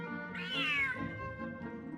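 A cat meows in Genshin Impact, one clear drawn-out call rising and then falling, close and alone, with soft game ambience underneath.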